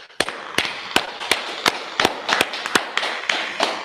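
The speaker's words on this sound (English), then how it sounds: "let's clap it up" A burst of sharp claps, many hands clapping in a quick uneven rhythm, loud and close, with no talking.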